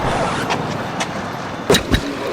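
A vehicle engine running after being started, a low steady rumble close by with a couple of short louder bursts near the end, no speech over it.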